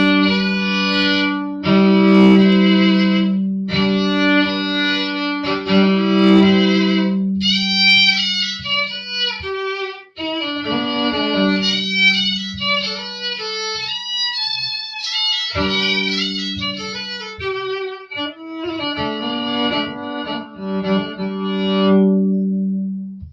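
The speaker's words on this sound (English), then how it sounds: "here's what the violin sounds like with nothing at it" A Kinglos Dove electric violin, played through an amp with no effects, plays a melodic passage with sustained bowed notes and short pauses, dry and fairly loud, with no other sounds.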